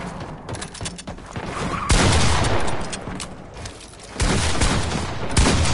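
Dense bursts of video game gunfire from a Fortnite match, rapid volleys and loud thuds crowding the whole stretch with heavy impacts near the middle and end, with no talking.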